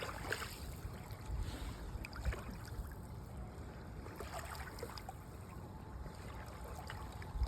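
Water at a beach washes in a steady, faint, hissing wash with soft splashes and a low continuous rumble, distant and unbroken.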